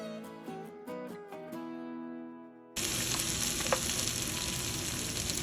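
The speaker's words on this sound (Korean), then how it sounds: "양파도 대파하고 마찬가지로 1분 정도 볶아주면 돼요" Onions sizzle in hot oil in a pan while being stir-fried for an octopus stir-fry, a dense steady crackle that starts abruptly after a few moments of music and stays loud and close.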